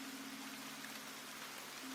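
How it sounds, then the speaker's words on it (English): Rain in the video game Accidentally, a faint, steady hiss of falling drops pattering on surfaces, continuous and soft with a low hum beneath. "then I hear the sound of rain"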